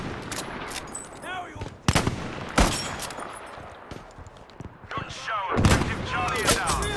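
Gunfire in the World War II shooter Battlefield V: a few sharp rifle cracks and scattered distant shots over a busy battlefield backdrop with whistling projectiles and faint voices underneath.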